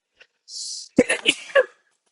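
A single close sneeze: a short hissing intake followed by an abrupt, explosive burst, then silence.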